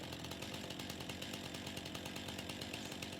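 A chainsaw cuts through a tree in Farming Simulator 19, a continuous, raspy engine drone that holds steady and fairly faint with no pauses.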